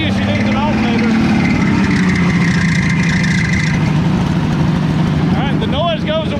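A 1966 Ford Mustang engine idles steadily close by, a whining, warbling tone from its faulty alternator riding over the running motor while people talk throughout.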